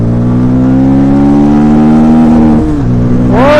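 A Bajaj Pulsar N250 motorcycle in second gear, engine note rising steadily under hard acceleration, loud and close, then dipping at a shift and climbing again at the end.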